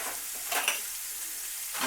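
Shrimp sauté in a hot pan with garlic, giving a steady, close, bright sizzle with a few short stirring bursts and no talking.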